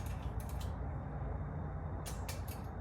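A torque wrench being gradually pulled in while tightening a bolt on a 24-inch bicycle gives two short clusters of quick creaking ratchet clicks, close and quiet, separated by a pause.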